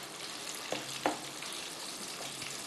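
Chicken half-cooking in a frying pan over a low flame sizzles and crackles steadily, with a couple of brief sharper pops from the oil and no voices.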